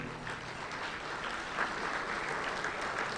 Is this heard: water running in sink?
no